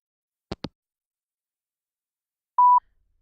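Telephone voicemail tones: two quick clicks, a pause, then a single clean electronic beep, loud and isolated in silence.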